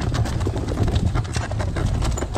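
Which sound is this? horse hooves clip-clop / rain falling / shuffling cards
horse hooves clip-clop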